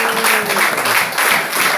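A crowd at a religious worship gathering applauds steadily, dense clapping filling a large room without pause.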